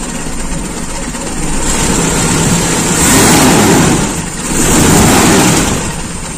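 A cold Toyota Kijang Super engine with an enlarged carburetor air bleeder, revved twice in long, loud swells from a steady idle, heard up close.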